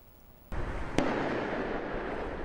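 Loud explosions during a police raid on a hostage siege at a chocolate café in Martin Place, central Sydney: a sudden blast, then a second sharp crack, followed by a sustained rumbling roar.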